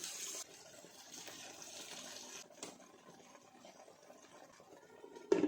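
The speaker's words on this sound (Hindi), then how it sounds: "अब इसमें हम थोड़ा सा पानी शामिल करते हैं।" Water pours into a mutton, potato and mince curry in a pot, a short soft gushing splash that settles into low, quiet bubbling and stirring.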